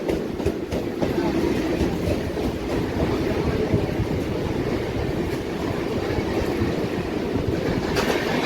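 A local train on the Howrah to Belur Math line rolls past nearby, its steady rumble and rhythmic wheel clatter filling the whole stretch without letup and with no talk.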